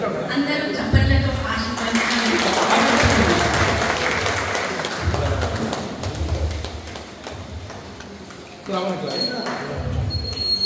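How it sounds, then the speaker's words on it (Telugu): Audience clapping at a felicitation ceremony where a councillor is honoured with a shawl, sustained applause rising and falling with a voice speaking over it and a brief lull near the end. "అందరూ చప్పట్లతో"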